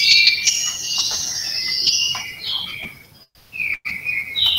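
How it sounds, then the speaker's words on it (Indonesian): Songbird singing in clear, continuous high chirps and trilling phrases close by, with a brief pause near the end before the song resumes. "Ini burungnya suaranya"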